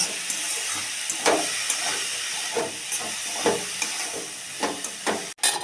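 Food stirred with spices in a pan, a steady steamy hiss and sizzle with repeated soft scraping strokes of the spoon, close and alone with no talk.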